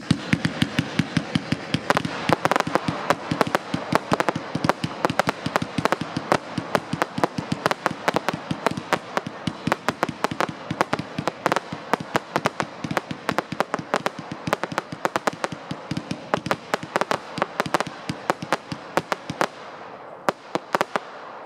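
A 100-shot new-type cross set fireworks cake at a pyrotechnics demo fires a long, loud, rapid string of bangs and crackles, shot after shot for about twenty seconds before stopping abruptly.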